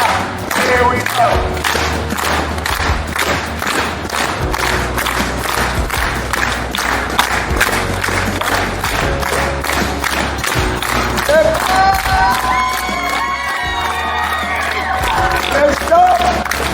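A street-show audience in Edinburgh claps together in a rapid, rhythmic beat that keeps going and builds, with cheers and a performer's voice calling out over the crowd.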